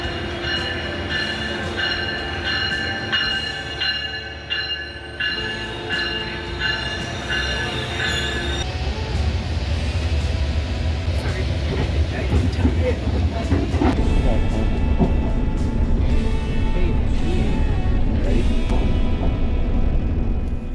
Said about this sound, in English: we finally made it to the station just in time for the train to pull up